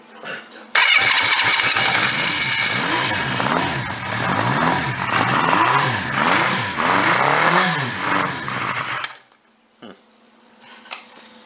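A 1975 Honda CB550F motorcycle engine with a carburetor leak cranks and catches, then runs and revs loudly and up close with wavering pitch for about eight seconds before cutting off abruptly, leaving quiet background.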